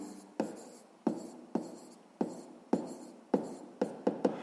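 Pen or pencil strokes on paper during a sixth-grade maths exercise, a close series of about nine short scratching bursts, each starting sharply and trailing off, unevenly spaced and fairly quiet, with no voice.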